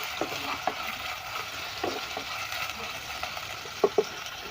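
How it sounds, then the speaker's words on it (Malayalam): Small onion sautéing in a pan as the base for a fish curry, a steady gentle sizzle with occasional soft stirring knocks, and two sharper taps of the spoon near the end, close and without speech. "ഒരു സവാള ഇട്ട് ഞാൻ എടുത്തേക്കണേ, ചെറിയ സവാള"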